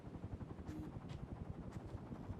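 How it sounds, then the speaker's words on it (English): Steady rhythmic chopping of video game helicopter rotors, low and continuous, at moderate distance with no talking. "Why does it sound like a helicopter?"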